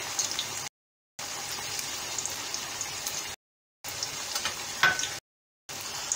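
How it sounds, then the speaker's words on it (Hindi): Potato fries frying in hot oil give off a steady crackling sizzle, close and fairly loud, broken by short silent gaps, with no talking. "इसको हम गोल्डन फ्राई करके निकालेंगे।"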